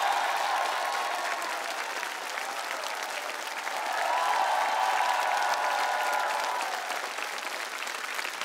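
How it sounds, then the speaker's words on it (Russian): A TV game show studio audience of about one hundred applauds loudly and continuously, the clapping swelling slightly midway, with faint cheering mixed in. "Она покидает наше шоу под громогласные аплодисменты нашей сотни"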